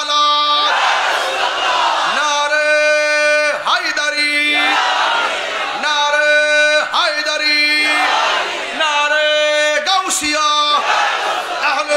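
A large crowd at an outdoor Islamic religious gathering roars a chanted response to the Nara-e-Takbir slogan, loud massed voices rising in repeated rhythmic bursts of about two seconds each.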